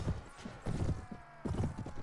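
A wounded horse gallops in battle in Mount and Blade: A Clash of Kings, its hooves beating in uneven bursts of dull thuds that break off briefly and resume, fairly quiet and near.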